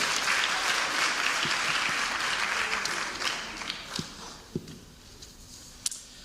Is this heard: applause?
yes